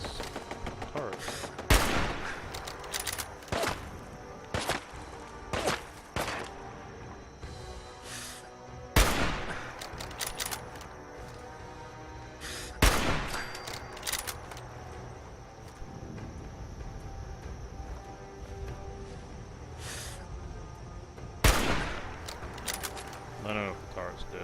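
Automated turret firing in Fallout 4's Far Harbor, several sharp bursts of gunfire spaced through the stretch, loud against a low game ambience with occasional clanks.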